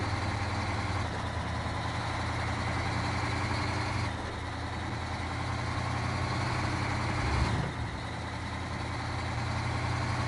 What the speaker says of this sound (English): Park and brake off, then start the engine